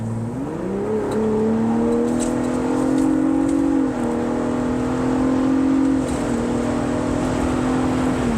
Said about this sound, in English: we're gonna accelerate very generously and let you guys hear this engine and how well it sounds